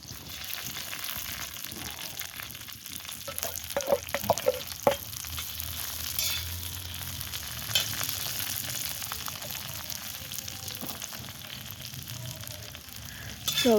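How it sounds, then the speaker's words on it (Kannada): Garlic fries in a pan over a wood-fired clay stove, with a continuous close sizzle and crackle broken by scraping stirs and a few sharp clinks of a utensil. "ಬೆಳ್ಳುಳ್ಳಿ ಹುರ್ಕೋಬೇಕು."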